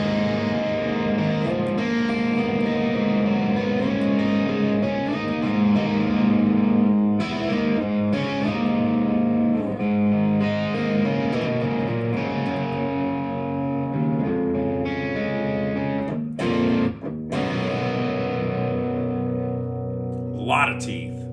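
Heavily distorted electric guitar played through a Bogner Uberschall high-gain distortion pedal, thick sustained chords with brief pauses, loud and close.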